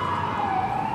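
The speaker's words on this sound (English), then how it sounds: "You hear the siren as soon as you get to start recording." A siren sounds on a New York street, holding a loud, steady tone that sags slightly in pitch. Street and traffic rumble sit beneath it, and nobody speaks.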